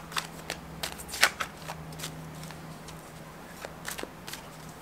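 Tarot cards are shuffled quietly, giving soft irregular flicks and riffles spread across several seconds, with one sharper snap near the start.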